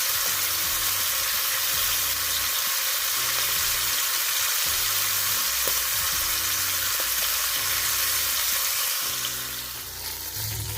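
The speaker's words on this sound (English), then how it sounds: "But sear it on the other side, so it can have this kind of mahogany color on the outside as well." A beef pot roast sears in a hot pan, giving a loud, continuous close sizzle that barely wavers throughout, with soft background music beneath and a slight drop in intensity at the very end.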